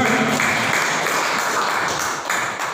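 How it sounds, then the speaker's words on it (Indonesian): An audience at an indoor training presentation claps together, a broad, steady wash of applause that holds for a few seconds before thinning slightly at the end. "Tepuk tangan sekali lagi, biar semangat."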